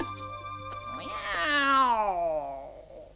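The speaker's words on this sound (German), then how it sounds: "das ist kein Dieb, das ist die Katze." A single drawn-out, rising then falling meow from a cat, clear and close, with faint background hum.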